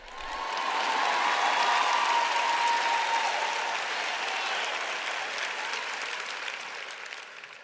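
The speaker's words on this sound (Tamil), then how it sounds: "இங்கே நீங்க சத்தமா கைத்தட்டணும்." A church audience applauds loudly in a sustained burst of clapping that swells quickly, holds steady, then slowly fades, with no voices over it.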